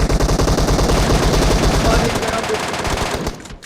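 Rapid automatic gunfire in the online shooter game PUBG hammers continuously in loud, dense bursts, close and overlapping, then thins out and stops just before the end.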